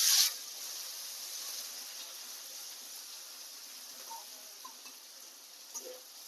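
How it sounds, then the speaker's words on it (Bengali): Chopped onions frying in hot oil with black cumin seeds after fish, a steady soft sizzle throughout with a few faint clicks, close and fairly quiet. "এবার দেবো কুচনো পেঁয়াজ"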